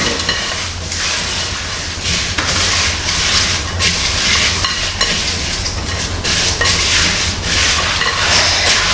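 A chocolate treat mixture is stirred in a bowl, with repeated scraping and squelching strokes in a steady rhythm, close and fairly loud, with no talk.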